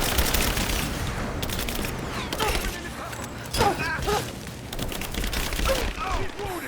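Gunfire in the video game Rise of the Tomb Raider: dense, continuous volleys of rapid shots and booms, with people talking over the fight.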